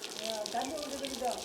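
Water runs steadily from a pipe, a continuous splashing gush heard close and fairly loud, with a faint tonal hum running underneath.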